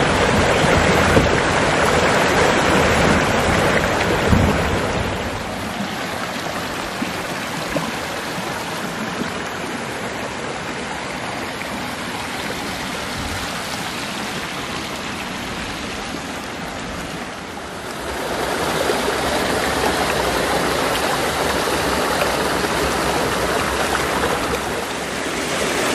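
A river flowing along its bank in an area of shade trees, rushing water heard loud and close as a steady broadband wash for the whole stretch.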